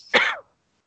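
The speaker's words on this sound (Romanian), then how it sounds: "Hai să cerem de ce tușești." A single short throat-clearing cough, close and loud, lasting under half a second and followed by silence.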